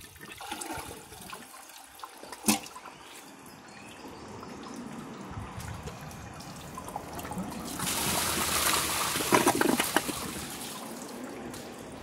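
A Kohler toilet flushes nearby, rushing and gurgling water that swells toward the end, with trickling and a faint bird call in the background.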